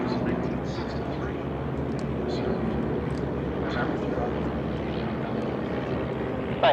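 A warbird aircraft makes a pass down the runway at the EAA AirVenture airshow, its steady propeller engine drone continuous under an announcer talking over a loudspeaker.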